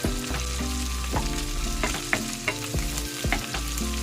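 Pork and string bean adobo being stirred in a hot pan, a constant loud sizzle of frying broken by repeated scraping knocks of the utensil against the pan, with no voices.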